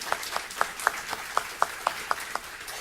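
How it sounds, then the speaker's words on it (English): Applause at a county Teacher of the Year award ceremony: a crowd's soft, steady clapping wash with a few louder, evenly spaced individual claps standing out, heard with no talking. "Give him a round of applause."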